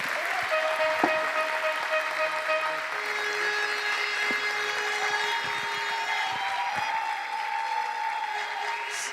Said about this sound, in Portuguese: Salva de palmas para o Rogério!